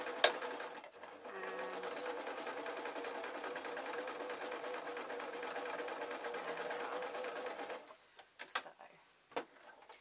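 A sewing machine runs steadily through the last stitches of a spider soft toy, a close, even mechanical whirr for most of the span, then stopping into a few clicks and handling knocks while a voice speaks briefly.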